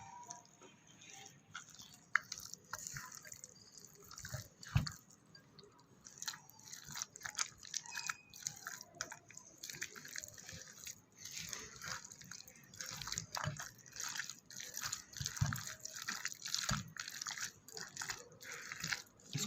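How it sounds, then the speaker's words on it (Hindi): Bare hands work raw chicken together with black pepper powder, chili flakes and salt, giving quiet, close, wet squelches and slaps in an irregular rhythm. "इसको अच्छी तरह से मिक्स कर लेंगे।"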